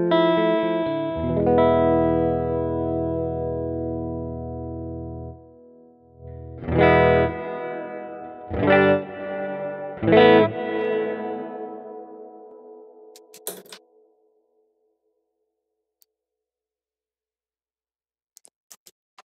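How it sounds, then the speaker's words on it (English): Guitar chords ring through a long hall-like reverb with heavy low end on a Line 6 Helix, one sustained chord followed by three separate strums, each tail decaying slowly into a long fade and then silence. "that's a very beautiful hall-like long reverb with a lot more low end"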